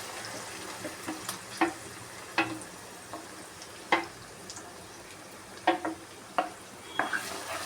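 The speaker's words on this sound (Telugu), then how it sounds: "వేసి ఇలా కలిపేసి ఇందులోకి ఈ పేస్ట్ మొత్తం వేసేద్దాం." Onions with turmeric and spice paste frying in oil for paneer masala curry, stirred with a spoon that scrapes and clinks against the pan in irregular strokes over a soft, steady sizzle.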